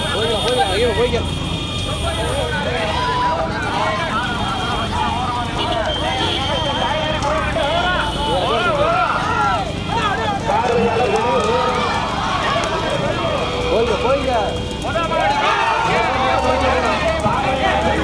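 Bulls pulling carts thunder along the course in a big-bull bullock cart race at Ponkadu, a steady rush of hoofbeats and rolling wheels under a continuous crowd roar and loudspeaker commentary.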